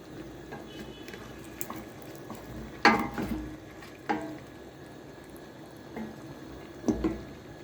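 Onions and chicken frying together in a pot with bay leaves and black pepper, a soft steady sizzle with a few louder clinks and stirring knocks, no talking.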